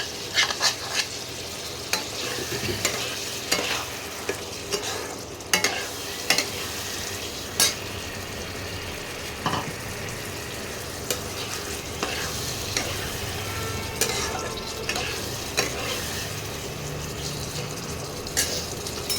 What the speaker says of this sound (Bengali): তেল ছাড়তে আরম্ভ করেছে। এবারে এই আলুগুলো, ভাজা আলুগুলো দিয়ে দিলাম।